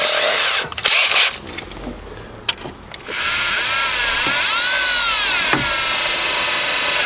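A power drill drives screws while a stock radio is reinstalled in a Buick Century's dash: some close handling noise and clicks, then a steady, loud motor whine that runs unbroken for about four seconds.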